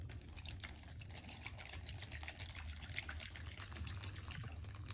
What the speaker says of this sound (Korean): 용액이 잘 섞일 수 있도록 흔들어줍니다.